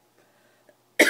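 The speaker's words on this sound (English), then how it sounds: "Oh my god, I hate this cough." A single loud, close cough bursts out at the very end after near silence, with a person recovering from a lingering cough.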